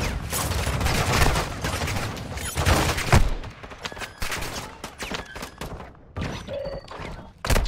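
Gunfire in Call of Duty DMZ: dense rapid bursts of automatic fire, then sparser sharp shots and thuds, loud and close throughout with no speech.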